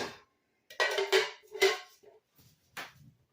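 Metal cake pans and bakeware, including an angel food cake pan and a bundt pan, clatter and clank as they are picked up and set down in a kitchen, several sharp, close knocks separated by short pauses.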